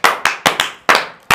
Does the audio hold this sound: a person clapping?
yes